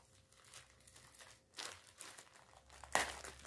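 Plastic packaging of a drill-mounted car polishing kit is pulled open by hand without scissors, giving close crinkling and tearing bursts, with a sharp rip near the end.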